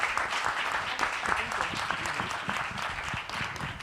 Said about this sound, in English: can we give this panel a round of applause?